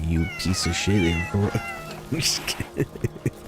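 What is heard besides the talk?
cat meowing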